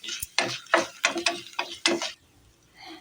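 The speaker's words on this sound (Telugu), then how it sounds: "ఈ పోపు గింజలు చక్కగా ఫ్రై అవ్వాలి." Tempering seeds frying in hot oil with dried red chillies, stirred in a pan with rhythmic metallic scrapes and sizzling bursts, loud and close, then quieting.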